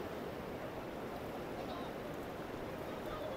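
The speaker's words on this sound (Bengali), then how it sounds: "এই দেখো জল ঠেলে নৌকাকে নিয়ে যাওয়া হচ্ছে" A fishing boat is pushed by hand through shallow river water. Faint, steady wash and churning swirl under wind noise, continuous and distant, with no clear separate splashes.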